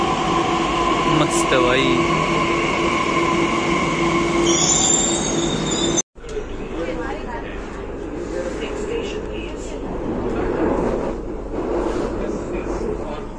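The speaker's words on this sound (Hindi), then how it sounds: "आनंद विहार आईएसबीटी आ गई भाई, मेट्रो आ गई।" A Delhi Metro train at Anand Vihar ISBT station, bound for Vaishali, runs with loud continuous wheel and rail noise and a squealing tone, then a sharp cut to steady car rumble as people talk nearby.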